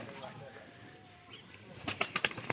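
A pigeon coos faintly in a loft against a steady hiss, with a low soft call in the middle and a quick run of sharp flutters and clatters near the end.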